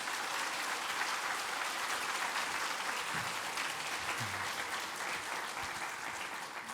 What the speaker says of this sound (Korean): 마음으로 큰 박수로 맞이하겠습니다